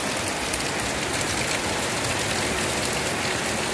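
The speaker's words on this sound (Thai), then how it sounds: "แดดจ้าเลย ฝนตก" Steady rain pours down during sunshine, a dense even hiss of drops hitting surfaces, loud and close, with no voices.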